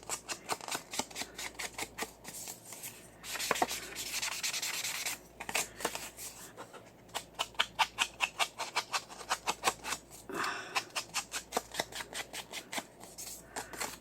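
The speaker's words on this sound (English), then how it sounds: "we are going to ink around this. And I'm using gathered twigs, oxide" An ink blending tool with Distress Oxide ink in Gathered Twigs is scrubbed around paper edges for a file folder folio, giving rapid, rhythmic rubbing strokes in close bursts with short gaps.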